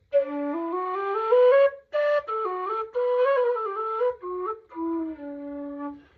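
Low whistle played in a mellow, breathy tone, a slow melody of sustained notes with short gaps between phrases, heard close and alone.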